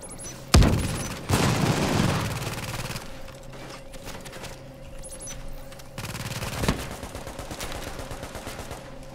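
A hacked turret in The Division fires during a Police Academy fight, with sharp separate shots and stretches of rattling automatic fire under a steady game hum at moderate loudness.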